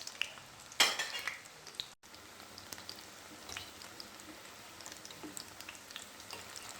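Shami kebabs frying in a pan over a low flame, a steady close sizzle with scattered crackles and a brief louder burst near the start, no talking.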